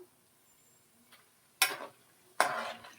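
Snacks frying in hot oil as they are turned one by one, with two loud bursts of sizzling spatter rising after quiet stretches; no voices.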